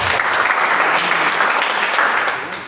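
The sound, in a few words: church congregation applauding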